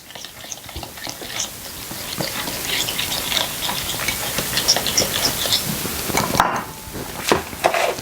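Ingredients being stirred together with sunflower oil for a pork knuckle dish: close, wet squelching and scraping strokes in an irregular rhythm, with occasional sharper clicks against the bowl.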